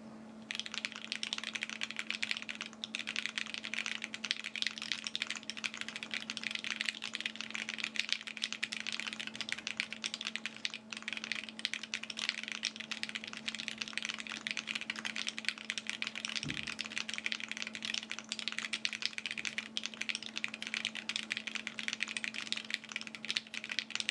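Continuous typing on a custom Hi-Finger 7.5 mechanical keyboard with a polycarbonate plate, gasket mount and lubed, filmed Alpaca switches, a steady run of dense clacks close up with a faint room hum underneath and no talking.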